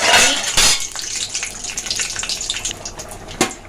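Bay leaves and a cinnamon stick hit hot oil for a shyama rice khichuri, giving a loud burst of crackling sizzle that settles into a steady, busy hiss with a few sharp spits.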